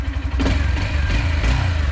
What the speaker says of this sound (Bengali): এটা হচ্ছে একজস্ট সাউন্ড আর ইঞ্জিন থেকে